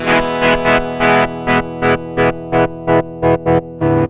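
A Roland GR-100 analog guitar synthesizer runs a patch driven by its built-in sequencer, giving a loud, distorted, buzzy tone that pulses in a regular rhythmic pattern of about a dozen short chopped notes, alone with no voices.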